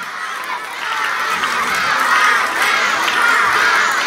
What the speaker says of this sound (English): There is a big cheer from the audience for Raman